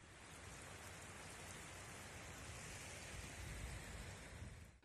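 Heavy rain falls in Mosul, Iraq during flooding, heard as a dense, even, continuous hiss of downpour at a faint overall level, with no voices.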